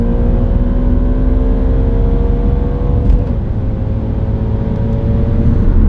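An Audi RS4 B7 with a swapped engine pulls hard in fourth gear, its steady, loud engine drone climbing slowly through the rev range from inside the car, with a slight dip partway through.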